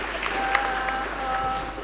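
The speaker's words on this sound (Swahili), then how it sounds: "Tumpigie Bwana makofi ndani sana." Church congregation clapping for the Lord at a Kikuyu baptism Sunday service, a steady wash of applause through the clip with a sustained tone running underneath.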